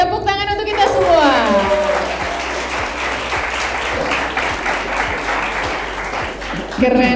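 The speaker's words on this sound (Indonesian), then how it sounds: "tepuk tangan untuk kita semua" Students applaud in a school hall, a loud burst of crowd clapping with cheering voices on top, starting just after a shout and carrying on steadily to the end.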